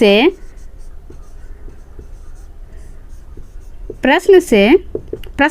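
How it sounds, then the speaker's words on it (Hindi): A maths question written out by hand in a Bihar Board class 8 linear equations lesson, soft pen scratches and taps on paper heard close between stretches of a man's speech. "तो अब यहाँ लिखेंगे प्रश्न"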